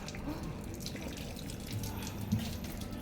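Tap water runs into a container being filled for watering plants, a steady close splash and trickle with a soft drip near the end.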